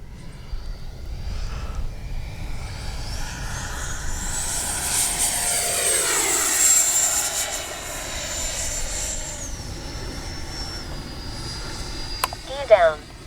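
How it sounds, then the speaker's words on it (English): An FMS 80mm electric ducted-fan F-86 RC jet makes a whooshing, whining pass overhead, rising in pitch and loudness toward the middle, then sweeping down and fading as it flies away, with a brief sharp noise near the end. "This has one of the best sounds of any RC plane"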